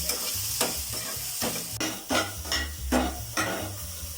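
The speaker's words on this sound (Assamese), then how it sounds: "এইখিনিয়ে ভালদৰে 3-4 মিনিট সময় কম জুইত ভাজি ল'ব" Soybeans sizzle in a hot pan on low heat while a utensil scrapes and stirs in regular strokes, close and moderately loud, with no talking.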